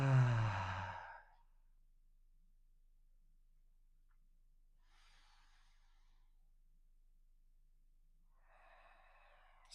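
Slow deep breathing during a gentle yoga session for sciatica relief: one long, loud sighing exhale opens the clip, then a quiet stretch gives way to two softer, airy breaths further off, with no talking.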